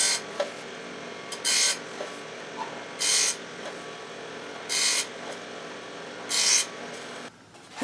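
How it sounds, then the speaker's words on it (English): A small modeling table saw slices short pieces off thin Padauk wood strips, giving brief whirring cuts that repeat at a steady pace of about one every second and a half, separated by a constant motor hum. "I'm using my modeling table saw to do this"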